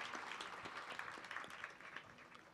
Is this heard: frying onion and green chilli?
no